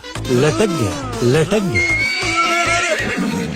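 Horse whinnying loudly and up close, with a long falling neigh, then a second rising whinny and snorting, over background voices and music, in a comedic scene.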